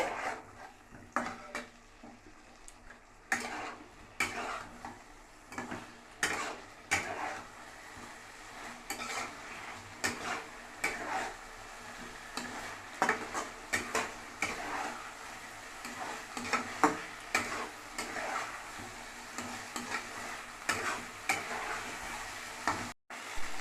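Fried pointed gourd (potol) is stir-fried in spice masala in a pan, with a steady sizzle under frequent scraping and clattering strokes of a spatula that continue close up for the whole stretch, with no voices.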